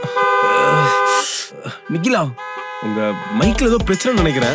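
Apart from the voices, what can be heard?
car horns honking in heavy traffic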